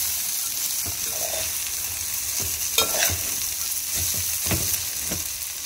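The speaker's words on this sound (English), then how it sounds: "Now that poha is in, let's mix nicely and keep it on low heat for 5 minutes" Poha stirred in a pan over low heat gives a soft, steady sizzle with intermittent scraping and tapping strokes of a spatula, close and moderately quiet.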